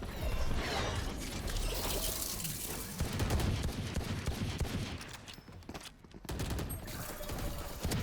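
Valorant gunfire during a VCT Masters London esports match: dense, loud bursts of rapid shots that run almost without a break, dipping briefly before the firing resumes.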